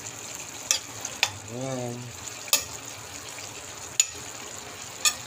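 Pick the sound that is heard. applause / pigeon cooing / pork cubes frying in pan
pork cubes frying in pan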